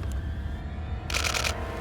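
A camera shooting a burst at 10 frames per second during wildlife photography of elk at Rocky Mountain National Park, a brief rapid run of shutter clicks lasting under half a second over steady outdoor background noise.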